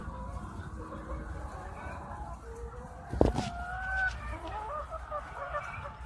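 Chickens on a chicken farm cluck in a low, continuous murmur, with a sharper bird call and a brief knock standing out midway; a faint voice may be present in the background.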